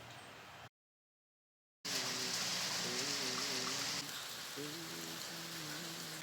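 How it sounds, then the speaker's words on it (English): Steady rain falls in a soft, constant hiss of drops on surfaces, interrupted by a short silent gap, with a faint melodic tone drifting underneath. "Listen to the beautiful rain sounds."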